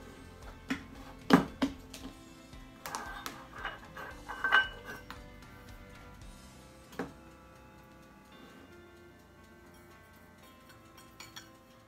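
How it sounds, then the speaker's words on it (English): Brown sugar being mixed with glaze ingredients for pork short ribs in a bowl: scattered light clinks and taps of a utensil against the bowl, a few sharper knocks early on, then quieter scraping. "I'm going to mix these all together"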